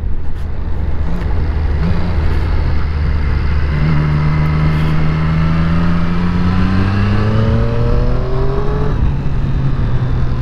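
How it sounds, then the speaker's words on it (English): A classic car passes on a twisty road, its engine note rising in pitch as it revs by, heard close and loud over steady motorcycle engine and wind noise. "Another classic car there."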